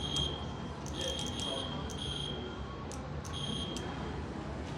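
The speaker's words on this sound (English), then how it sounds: "Sounds like a fire alarm." A fire alarm sounds inside Oslo Central Station near hydraulic elevators, a repeating high electronic tone in short pulses over a constant hall murmur.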